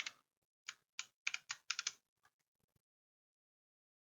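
Keystrokes on a computer keyboard, a quick run of about a dozen crisp clicks in an uneven rhythm, close and clear, then a few faint taps before silence.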